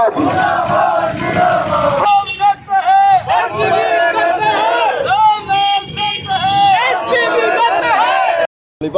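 A large protest procession moves through a market, many voices chanting slogans together in loud rhythmic bursts, with crowd hubbub and shouts filling the space close by.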